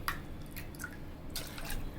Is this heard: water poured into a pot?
yes